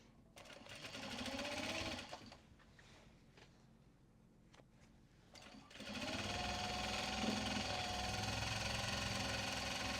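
Sewing machine stitching a seam in waxed canvas: a loud steady mechanical whir runs, pauses into a quieter stretch with faint clicks, then resumes at full speed for the rest.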